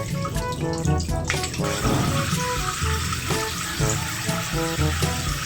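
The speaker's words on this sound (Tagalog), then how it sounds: "At hugasan ko na lang din po itong siling green." Green chili peppers rinsed under a running kitchen tap, with steady splashing water broken by clinks and rattles of the peppers and a bowl, close and fairly loud with no talking.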